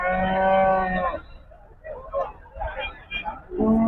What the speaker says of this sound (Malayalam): ഇതൊക്കെ അറവിന് പോകുന്ന എരുമകളാണ്.